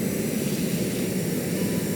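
A propeller aircraft engine in the video game Stormworks drones steadily, a constant mid-loud roar with no break for the whole stretch.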